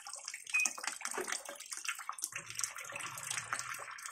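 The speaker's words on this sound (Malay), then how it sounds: "Air dah keluar. Ada bunyi keluar air tu." Water drains out of a Sharp ES-U756E washing machine with a faulty drain, a faint, continuous rushing and gurgling flow with fluctuating splashy texture, heard close and alone without talking.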